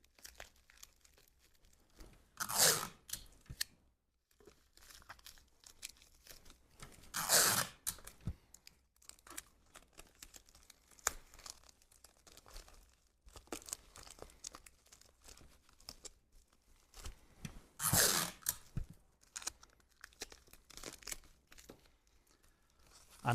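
Adhesive tape is pulled and torn in three sharp rips, separated by quieter crinkling and handling of paper while a paper lantern is taped together up close.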